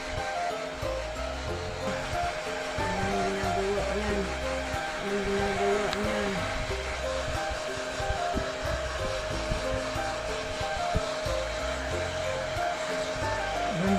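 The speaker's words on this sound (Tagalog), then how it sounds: "Kailangan mabilis ang kamay mo para hindi siya matamaan ng blower." A steady blow dryer whirs continuously while drying a dog, with faint background sounds underneath.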